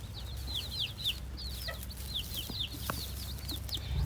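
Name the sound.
rooster clucking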